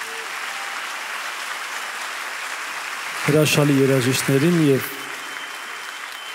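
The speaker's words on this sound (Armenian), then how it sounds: "Եկեք բարձր ծափարենք մեր երաժիշտներին" A live concert audience in Los Angeles keeps up steady applause for the musicians while someone speaks over it through the microphone, his voice rising out of the continuous clapping.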